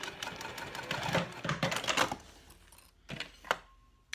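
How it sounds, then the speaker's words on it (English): A sewing machine stitches across a key fob wallet in a short close run, followed by a pause and a couple of sharp clicks and knocks near the end, quiet overall and without talk. "And then I'm going to finish stitching all the way across."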